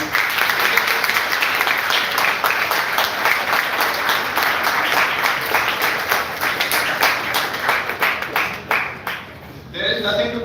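Dense audience clapping fills a hall at a school gathering, steady and loud for about nine seconds before thinning out and fading into a quieter moment with voices at the end.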